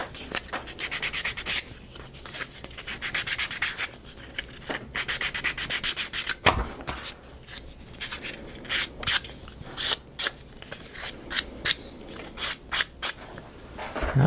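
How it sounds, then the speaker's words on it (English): Foam sanding sticks rub back and forth over a wooden ROKR 3D pinball model kit, a close, dry scratching that comes in rapid strokes and bursts with short pauses between them, with no voices. "I've been using these foam sanding sticks on this one"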